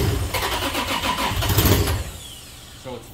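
Formula D drift car's engine being cranked on low battery voltage, a labored, rapid churning of the starter for about two seconds, then a brief pause and a faint second turn.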